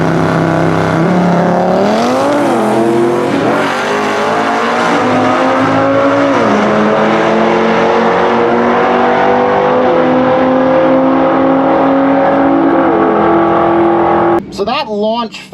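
A drag car on 15-inch drag slicks launches hard, its engine a loud, close roar climbing steadily through the gears with brief dips at each shift, cutting off abruptly near the end.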